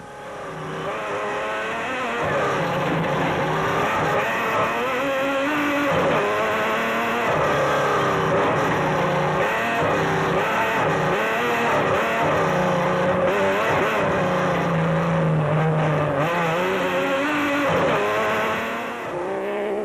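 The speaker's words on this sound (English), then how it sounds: "Duncan Foss and Ralph Pitchford in their Nissan Navara, were next off the line" A Nissan Navara rally truck pulls away from the start line at the Toyota 1000 desert race in 2006, its engine roaring loud and sustained, rising and falling in pitch through gear changes for nearly twenty seconds.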